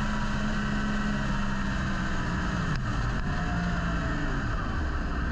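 A KTM Duke 790 motorcycle riding on a race track, heard as a steady, fairly quiet engine drone mixed with rushing wind noise, continuous with no clear breaks.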